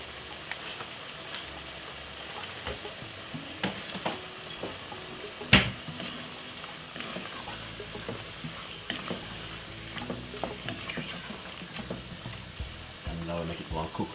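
Curry beef seasoned with ghost pepper simmering in a pot, a soft, steady bubbling sizzle with a few light clinks and knocks, quiet and close.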